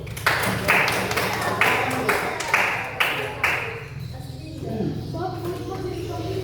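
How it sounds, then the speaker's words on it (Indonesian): Classroom applause from a seventh-grade social studies class for the first group, a few short bursts of clapping over a steady hum with voices murmuring underneath. "Tepuk tangan untuk kelompok 1."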